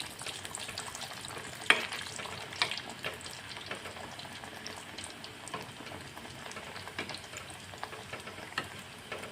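Dhakai paratha frying in a pan with a spoonful of oil, a steady close sizzle and crackle with occasional sharp pops and scraping stirs throughout.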